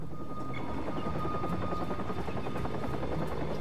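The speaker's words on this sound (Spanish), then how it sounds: "Tenemos que seguir al helicóptero" Helicopter in the video game Watch Dogs, a steady rotor drone with rhythmic chopping and a high engine whine, holding loud and constant throughout with no talk over it.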